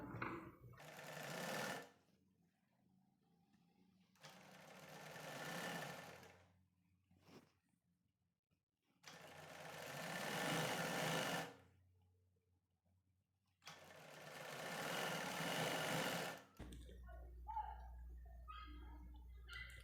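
An electric sewing machine stitches a folded blouse hem in three loud, close, sustained bursts of rapid whirring separated by pauses of silence, followed by quieter rustling of fabric at the end.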